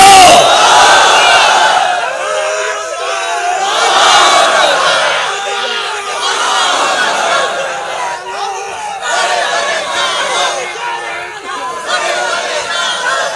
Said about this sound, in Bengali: চট্টগ্রামবাসী কি সেরকম একটা তাকবীর দিতে পারবে? আল্লাহু আকবার বলো।